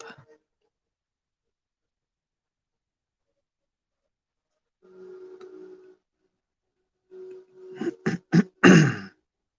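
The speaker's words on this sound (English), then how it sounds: "sorry for clearing my throat so much here, right in your ears." A few short, raspy throat clearings close by, the first a small cough-like grunt, then a louder cluster of quick rough bursts near the end, with silence between.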